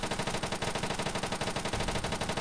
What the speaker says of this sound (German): Da schießt doch was auf dich.